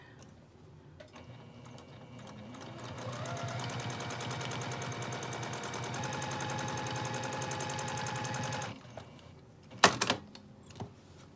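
Sewing machine quilting rows on a Christmas stocking, a steady fast mechanical whir and stitch chatter that ramps up and runs for about six seconds before stopping, followed by a few sharp clicks and handling noises.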